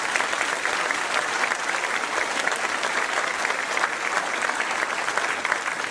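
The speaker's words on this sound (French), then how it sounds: "Mesdames et messieurs, je vous demande de les applaudir." Audience applause for SNSM sea rescuers during a mayor's New Year address at the Ouistreham Riva-Bella town hall: a dense, steady wash of many hands clapping, sustained evenly throughout with no voices over it.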